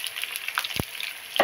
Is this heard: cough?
no